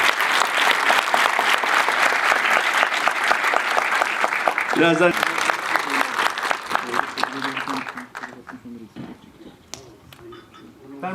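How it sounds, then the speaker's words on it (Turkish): A film gala audience breaks into loud, dense applause that holds strong for several seconds, then thins out and fades as voices take over near the end. "alkış istiyorum kendime"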